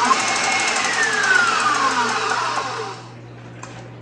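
An electric mixer whips egg whites to stiff, fluffy peaks for buttermilk waffles, giving a steady, close, fairly loud whir over a low hum that cuts off about three seconds in, leaving quiet room noise.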